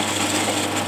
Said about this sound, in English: We'll cut this thing off exactly at 1 inch long.